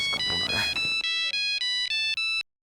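A phone ringtone plays loud and close, a bright repeating electronic melody in short pulses for an incoming call, stopping abruptly, with brief voice-like sound at the start.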